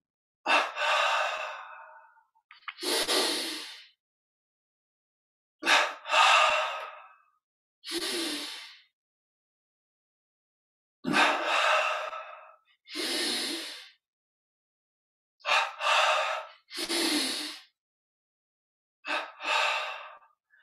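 Close, deep breaths during a guided Yogoda exercise: long audible inhales and exhales in regular pairs, separated by silent pauses, with no talking.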